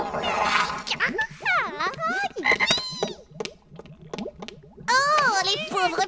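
Cartoon toads croak in a lively animated scene, a string of bubbly, warbling croaks rising and falling in quick bursts, loud and close, with a louder cluster at the end.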